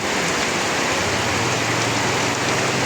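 Heavy rain pours steadily with a dense hissing patter, loud and continuous, with a low rumble underneath.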